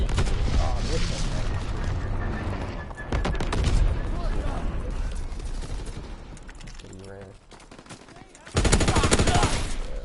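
Submachine gun fire in the video game Call of Duty WW2 rattles in rapid bursts, mixed with other in-game shots, booms and mechanical clatter, loud and close throughout.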